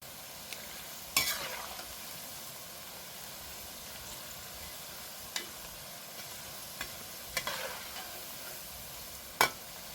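Onion pakodi fry in hot oil, giving a soft, steady bubbling sizzle up close, broken by occasional sharp clinks and scrapes of stirring, with no one speaking.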